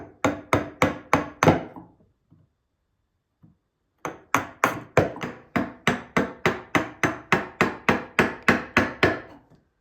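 A chisel is struck into wood to cut a mortise for a mortise and tenon joint. About five sharp, close strikes come first, then a pause, then a long run of about sixteen evenly paced knocks.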